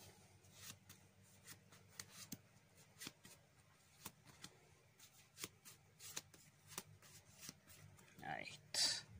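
Yu-Gi-Oh trading cards are shuffled by hand during a tournament warm-up match, giving a rapid series of soft riffling and rubbing bursts in an irregular rhythm, with quiet talk in the background.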